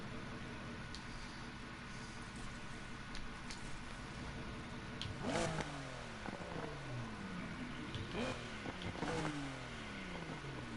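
In Need for Speed Heat, a car's exhaust revs through several quick throttle blips and gear changes over a steady engine drone, rising and falling in short bursts with no voices.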